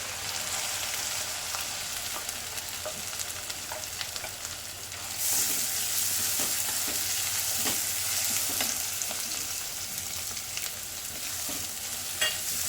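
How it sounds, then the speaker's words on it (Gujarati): Ginger garlic paste and onion sautéing in a pan for dal makhani, a steady sizzle and frying crackle with occasional stirring scrapes, close and continuous, growing a little louder midway as more goes in. "આદુ લસણની પેસ્ટ, થોડી સતળેવા દેવાની, પછી એમાં ડુંગળી એડ કરીશું।"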